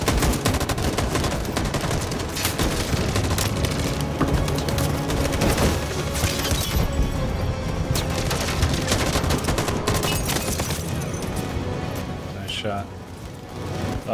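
Sustained, dense gunfire in the video game Detroit: Become Human roars almost without pause, loud and close, with people shouting over it and a slight easing near the end.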